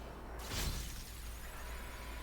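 Auron slicing through glass-like trees in Final Fantasy X HD gives a single sharp crystalline shatter that bursts out and quickly fades into a steady background hum.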